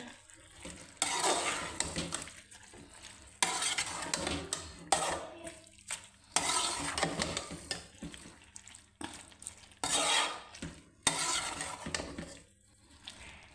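Fried eggplant is stirred into browned potatoes in a pot for aloo baingan, with bursts of scraping, clattering and soft sizzling separated by short quiet pauses.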